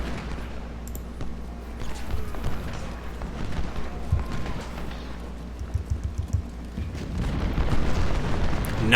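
Artillery booms from a Civil War battle in the strategy game Ultimate General: Civil War, a few heavy low thuds rising out of a constant rumbling battlefield din with scattered cracks, with no talking.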